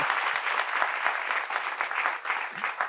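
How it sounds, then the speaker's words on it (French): An audience applauds steadily on a French talk show set, a dense, sustained clapping with a crowd in the room, fairly loud throughout and without speech. "applaudissements pour lui"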